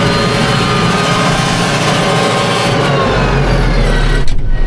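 A TR 6125s tractor pulling a five-furrow plough runs with a loud, steady engine drone and transmission whine, heard from the cab with a deeper rumble rising near the end.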